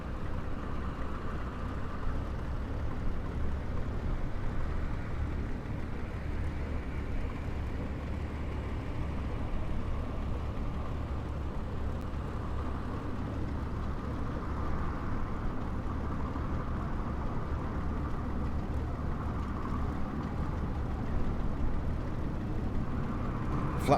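A low, steady piston aircraft engine idle at 700 rpm in Microsoft Flight Simulator 2020, a Hurricane or Spitfire, hums evenly for the whole stretch, a continuous rumbling drone with no revving or changes in pace.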